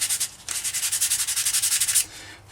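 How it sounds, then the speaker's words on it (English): Quick, rhythmic back-and-forth sanding strokes on an epoxy clay fin fillet rasp up close, a short burst, a brief pause, then a longer run of even strokes before stopping. "So we're going to sand that."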